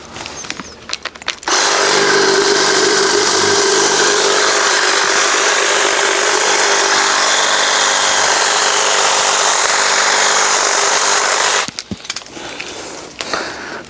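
Makita UN001GZ cordless pole hedge trimmer running at speed 2, a loud close buzzing whir held steadily for about ten seconds, with brief cutting clicks and handling noises before and after.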